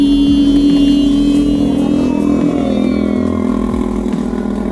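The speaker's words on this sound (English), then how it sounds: "Not even, it's a fucking moped." A moped engine passes close by, loud and steady with a buzzing, revving drone that fades slightly as it moves away, with no talking over it.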